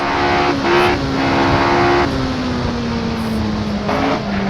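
A race car engine in Assetto Corsa on a damp, drying track, loud and close, holding a steady high drone that drops in pitch through gear changes, with brief shifts in tone between shifts.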